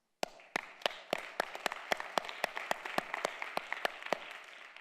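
Audience at a talk applauding with sparse, distinct claps in a steady rhythm, about fifteen sharp hand claps spaced evenly, fairly quiet and isolated rather than a full ovation.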